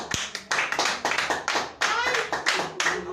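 Hands of a worshipping church congregation clap together in bright, rhythmic bursts, many people applauding at once with short swells and a sharp thump near the start; faint voices sit underneath.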